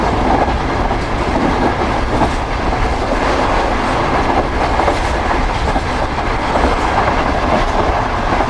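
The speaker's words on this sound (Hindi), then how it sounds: "काफ़ी अच्छी स्पीड में गुजरी है ट्रेन" An express train passing at high speed roars past at a station, a loud continuous rush with rapid wheel clatter on the rails and no talk.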